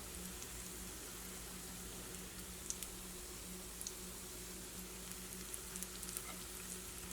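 Wheat flour and egg dough fries in hot oil with a soft, continuous sizzle and scattered faint pops, quiet and steady from start to finish.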